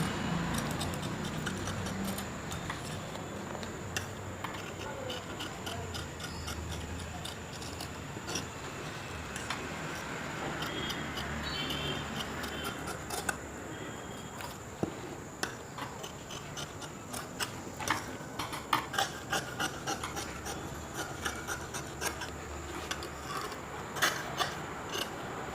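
Scissors snip through canvas while neck designs are cut out, giving a string of close, crisp clicks and rustles that quicken toward the end, with no speech.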